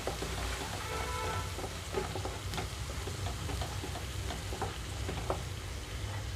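Ginger-garlic paste with turmeric frying on a stove over high flame, giving a steady dense crackle and sizzle with scattered pops and light scraping, fairly close and continuous, no voices.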